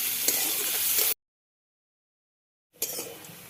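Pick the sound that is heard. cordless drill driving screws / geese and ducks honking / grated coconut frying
grated coconut frying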